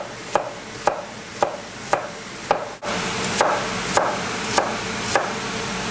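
Knife chopping beef into large chunks for boeuf bourguignon, sharp regular strikes on a cutting board about every half second, close and clear against a faint kitchen background.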